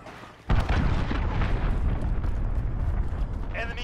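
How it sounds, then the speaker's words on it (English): A cruise missile explosion in Call of Duty: Modern Warfare multiplayer, starting as a sudden loud boom and rolling into a sustained, heavy rumble that fills the rest of the moment. "Enemy cruise missile, take cover."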